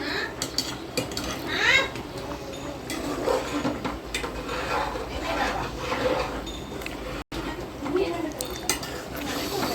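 Egg curry (egg pulusu) is stirred in a pot. A spoon clinks and scrapes against the metal repeatedly and close up, with some voice-like sound faintly in the background.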